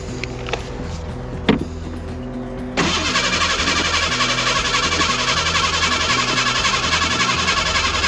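A 2.0 Ford Bronco II unused for over ten years, with freshly primed fuel lines, gets a couple of brief clicks and a short burst before the starter kicks in and cranks loudly and steadily to the end.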